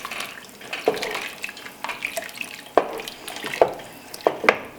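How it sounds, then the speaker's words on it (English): Peppers for a fermented hot sauce stirred in brine, giving wet sloshing and a few sharp clinks and drips spread unevenly across the stretch, moderately close and fairly quiet, with no talking. "I'm gonna go ahead and give these a good stir."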